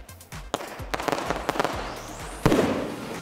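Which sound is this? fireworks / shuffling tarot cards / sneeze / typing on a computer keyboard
fireworks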